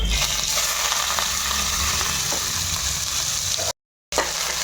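Onions, green chillies and curry leaves fry in hot oil in a pressure cooker, a loud continuous sizzle with faint stirring scrapes and a brief cut to silence near the end.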